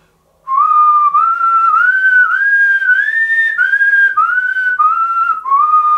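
One person whistles a melody loud and close, each note scooped upward from below into its pitch, in a steady run of sliding phrases.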